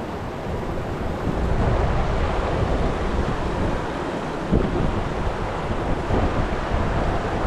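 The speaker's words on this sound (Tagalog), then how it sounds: "Medyo umiihip ng malamig yung hangin" Steady, broadband wind rushing across the microphone, fairly loud and continuous, with a faint surf-like wash underneath and no voices.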